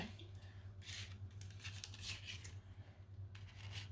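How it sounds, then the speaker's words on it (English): Scissors snip close up in several short, crisp cuts, quick bursts of sharp shearing over a quiet low hum. "let me use some scissors."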